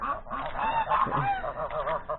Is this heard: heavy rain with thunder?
no